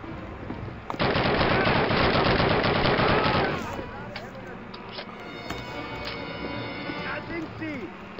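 Rapid automatic gunfire from a Call of Duty match, a loud dense burst of about two and a half seconds followed by scattered distant shots and battle noise, with a player talking over it.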